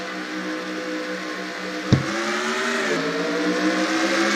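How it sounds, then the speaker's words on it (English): Race cars in the NASCAR Racing 2003 video game, running at the green flag at a South Carolina track. A steady, loud engine drone with layered harmonic tones shifts pitch, and a brief sharp burst comes near the two-second mark. "Hoover and Siegel lead us off here to green flag, and we are racing here in South Carolina"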